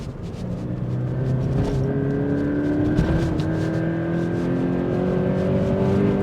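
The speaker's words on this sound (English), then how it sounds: "You really have to get up into the higher revs to feel like you're actually getting somewhere." A Toyota GT86 sports car engine revs steadily higher toward 6,000 RPM, its tone climbing as it accelerates, close and loud without any talking.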